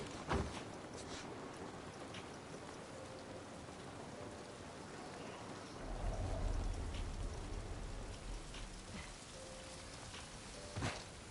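Rain falls steadily in The Last of Us, a soft even patter on surfaces with a low rumble swelling briefly midway and occasional faint clicks.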